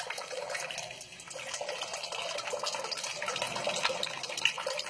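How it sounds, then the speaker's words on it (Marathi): A steady stream of water pours from a vessel until it runs empty, making a continuous, fairly quiet splashing rush with no voices. "आता हे पाणी पूर्ण संपल्यानंतरच, भांडं रिकामं झाल्यानंतरच ही धार पाण्याची जी आहे ती थांबेल."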